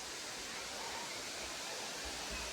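Talakona waterfall pours with a constant, broad rushing roar, steady and unbroken throughout, heard from close by.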